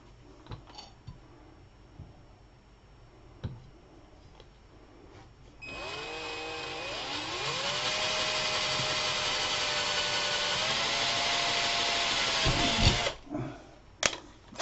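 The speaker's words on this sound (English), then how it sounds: "I'm going to drill it, Bob." A power drill bores a hole: after quiet shop noises and a few clicks, the motor whirs on steadily for about seven seconds, rising slightly in pitch, then winds down with a few clunks, fairly close.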